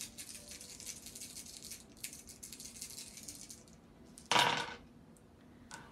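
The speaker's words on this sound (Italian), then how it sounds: "Tira 5 dadi." Five dice rattle in a hand and clatter onto a table during the board game Shadows of Brimstone, a soft continuous shaking followed by a brief sharp tumbling burst and a small final click.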